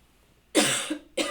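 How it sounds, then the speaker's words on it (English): Two harsh coughs close to the mic, a longer one followed by a short second burst, with quiet room tone around them. "And of course, I have to cough because I'm recording."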